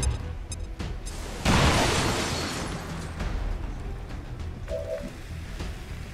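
A grenade explodes in XCOM 2: War of the Chosen with a loud, broad blast whose rumbling debris tail fades over several seconds. Game ambience sits underneath, and a short tone follows near the end.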